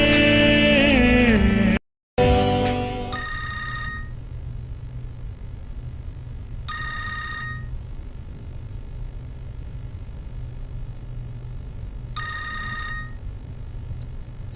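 A telephone rings in a quiet room, with three or four separate ring bursts spaced several seconds apart, after a short stretch of music at the start.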